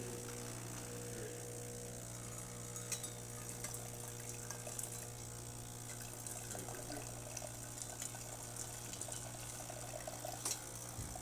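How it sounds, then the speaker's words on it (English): A Breville BES870XL espresso machine dispenses hot water with a faint, steady trickle and low pump hum, quiet and continuous with a few small clicks and no talking. "So let's do the hot water first."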